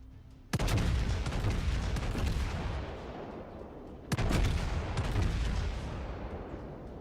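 Naval gunfire from the battlecruiser Amagi in World of Warships, two heavy booming salvos several seconds apart, each hitting hard and then rumbling away slowly in a long roar.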